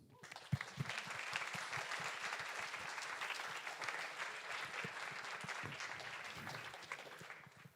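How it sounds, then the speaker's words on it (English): An audience at a Speck&Tech tech meetup breaks into warm applause, dense overlapping clapping that swells quickly and holds steady, with distinct claps standing out near the front. "A warm applause."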